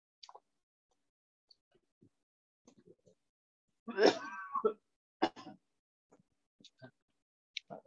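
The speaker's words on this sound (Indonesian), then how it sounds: "Batuk." One short cough breaks an otherwise quiet room, with a few faint clicks and murmurs scattered around it.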